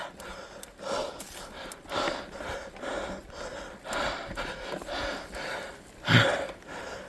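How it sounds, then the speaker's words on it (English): Heavy, rhythmic breathing of a cyclist on a mountain bike ride, close to the mic, with repeated hard exhales over steady wind rush and one louder gasp near the end. "you're just gonna hear heavy breathing through the whole video."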